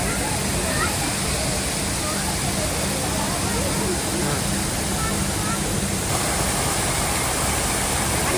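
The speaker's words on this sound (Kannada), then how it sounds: "ಎಲ್ಲ ನೀರು ಬೀಳೋ ಥರ ಮಾಡ್ಬಿಟ್ಟವ್ರೆ ಅಷ್ಟೇ" An artificial waterfall inside a mermaid attraction in JP Nagar, Bangalore, pours in a dense, steady rush of splashing water that fills the space without pause.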